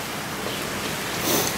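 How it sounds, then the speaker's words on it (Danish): Rain falling steadily outdoors on garden paving tiles, a dense even hiss that holds throughout the short stretch with no voices. "Nu regner det så her samtidig,"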